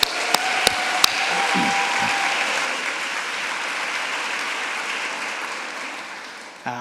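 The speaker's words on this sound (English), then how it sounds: "Another clap for that." A large audience at a physical therapy commencement ceremony claps in a long, sustained wave of applause, with a few sharp clicks at the start and a slow fade at the end.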